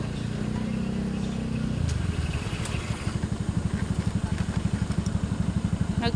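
A motorcycle engine revs with a steady hum, then drops into a rhythmic, chugging idle with evenly spaced pulses as the bike is parked close by.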